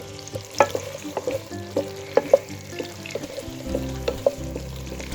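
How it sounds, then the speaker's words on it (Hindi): Tomatoes, capsicum and onion frying lightly in a pan for chicken jalfrezi, a steady low sizzle with frequent clinks and scrapes of stirring, close and unhurried. "आपने इसको बहुत ज़्यादा कुक नहीं करना, बस लाइट सा फ्राई करना है।"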